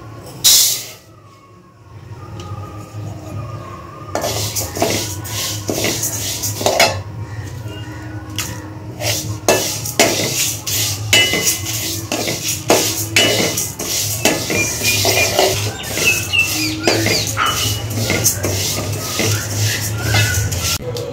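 Mung dal is dry-roasted and stirred in a hot metal kadai with bay leaf: a near, continuous clatter and scraping of a spoon against the pan with sharp metallic knocks, no speech.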